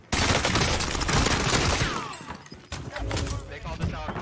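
Dense, rapid gunfire from a multiplayer shooter game fills the recording, loud and close, a continuous volley with crashing impacts, easing briefly before more shots resume.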